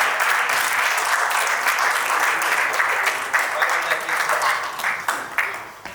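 An audience at a farewell ceremony gives a sustained round of applause for an honoree called to the stage. The dense clapping stays steady, then thins into scattered claps and fades at the end.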